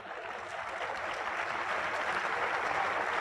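An audience applauds steadily at an educators' HRD session, a dense, even wash of many hands clapping that holds at a moderate level and swells slightly toward the end, with no voices over it.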